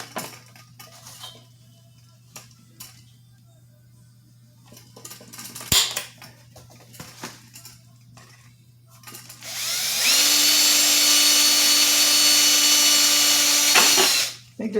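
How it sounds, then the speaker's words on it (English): A power drill with a dull bit bores into an aircraft pitot tube mock-up, starting after scattered clicks and taps with a loud steady whine held for about four seconds, then stopping abruptly. "I think this drill bit's getting a little dull."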